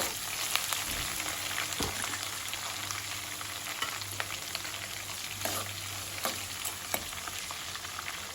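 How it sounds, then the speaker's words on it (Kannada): Tempering spices crackle and sputter in hot oil as curry leaves are added for aloo bonda, producing a dense sizzle with sharp pops and bursts scattered throughout and a low hum beneath. "ಒಗ್ಗರಣೆ ಸಿಡಿತಿದ್ದಾಗೆ ಇದಕ್ಕೆ ಕರಿಬೇವಿನ ಎಲೆಗಳನ್ನು ಹಾಕ್ಕೊಳ್ತಾ ಇದ್ದೀನಿ"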